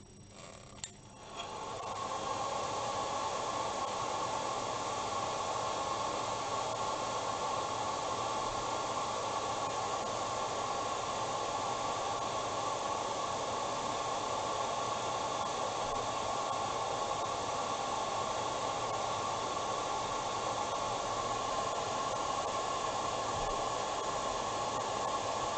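A hair dryer blows steadily to dry the paint on a Games Workshop Yndrastar miniature figurine. Its constant, close whooshing drone starts after a brief moment and runs unbroken to the end.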